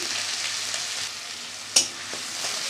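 Mustard-poppy paste with green chilies, black cumin and turmeric sautés in a pan, giving a steady soft sizzle with one sharp utensil clack partway through and a few lighter taps.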